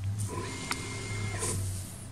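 An RB3 3D printer moving its print head to the center of the bed, a steady motor hum with a brief higher whine and a small click, close and continuous.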